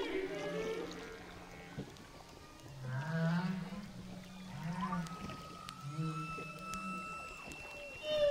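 Humpback whales sing underwater, picked up by hydrophones from a boat: long drawn moans and rising, falling tonal calls overlap in a continuous, fairly faint chorus over low water and hull noise.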